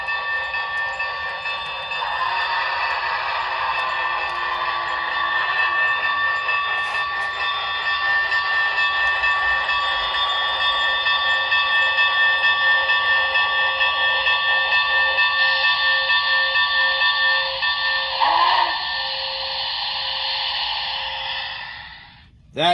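A steady, loud hiss and chuff of a model Big Boy steam locomotive runs continuously with layered whistle-like tones, fading out near the end.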